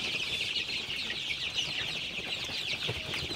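A flock of Sonali super hybrid chicks cheeps and clucks in a dense, continuous chorus at evening, many overlapping calls at steady volume with no talking.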